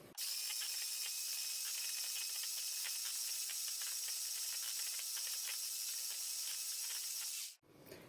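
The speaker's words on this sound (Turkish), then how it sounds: "Çırptığım yumurta, şeker ve vanilyanın üzerine boşaltıyorum. Ve tekrar çırpmaya devam ediyorum." Eggs, sugar and vanilla being whisked for homemade ice cream, a steady close rasping whir with fine clicking texture running without a break for several seconds before stopping abruptly.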